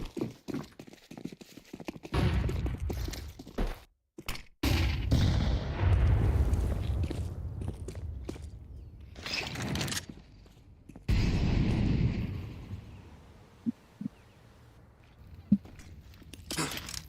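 A grenade blast and gunfire in a Counter-Strike 2 esports match, with loud bursts and sharp cracks spread across the stretch, broken by brief silences and a few isolated shots.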